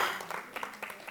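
A small conference audience at a tech talk clapping on request, a scattered, fairly quiet patter of hand claps lasting about a second with no talk over it.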